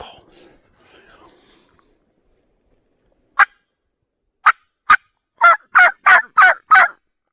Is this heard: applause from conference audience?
no